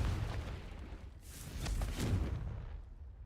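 Confringo blasting spell cast in Hogwarts Legacy, heard as a couple of booming bursts with crackling debris over a low rumbling battle background, fading out at the end.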